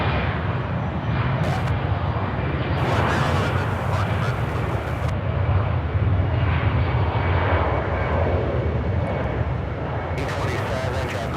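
Airplane taking off at Charlotte Douglas International Airport, a loud sustained jet engine roar that holds steady and fills the whole stretch, with voices partly under it.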